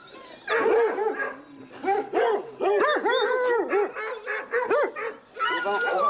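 A pack of hare-hunting hounds on a farm in the Bourbonnais countryside barking and baying, loud overlapping yelps in repeated bursts that go on without a break.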